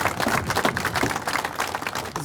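Audience applause at a Utility Worker Appreciation Day event: dense, steady clapping from a crowd, fairly loud and continuous, with no speech over it.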